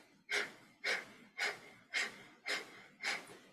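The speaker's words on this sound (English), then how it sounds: "You can always go back to long, deep breaths." Long, deep yogic breathing during a meditation class, six evenly spaced, close, breathy exhalations at a slow steady rhythm with quiet pauses between.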